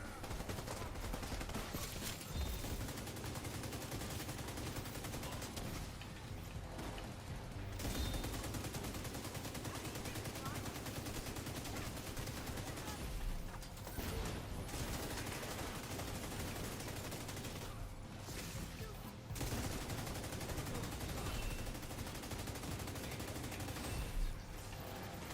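Sustained LMG fire from a pestilence build in The Division 2, a dense continuous rattle of rapid shots running almost without pause over many seconds, with brief lulls and a faint voice now and then underneath.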